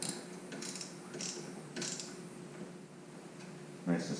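A wrench tightens the top bolt of a Goldstrike tie-down bracket on a 2018 Honda Goldwing Tour DCT motorcycle, giving a few faint metallic ratchet clicks and clanks at irregular intervals with a louder clink near the end.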